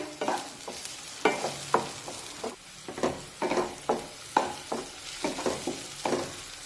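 Chopped tomato cooking and stirred in a pan for a Marathi dal dish: repeated scraping spatula strokes, roughly two per second, over a quiet sizzle, close and moderately loud with no talking.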